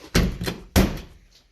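Two solid thunks of a hard-top door on a Jeep YJ being pushed shut, close by, with a short gap between them and the second closing more firmly, then a quick fade.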